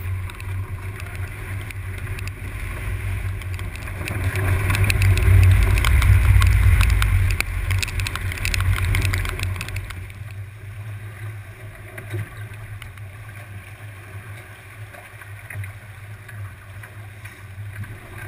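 A sailboat on a solo round-the-world voyage rushes through the water at seven to eight knots, with continuous wind and hull wash swelling louder in the middle and then easing.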